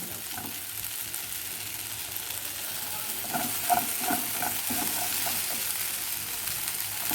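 Tamarind pickle ingredients dry-roast in a pan on a low stove flame with a faint continuous sizzle, while a run of rhythmic scraping stirs sounds in the middle.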